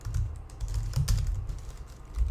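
Fingers type on a computer keyboard while code is written, producing a quick, close flurry of key clacks for about two seconds with no talk.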